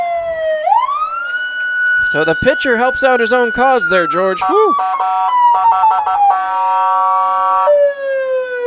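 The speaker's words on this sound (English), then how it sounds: "And the siren continues to blare." A loud electronic siren at a baseball game wails and whoops in rising and falling patterns, switching to rapid yelps, while someone talks over it.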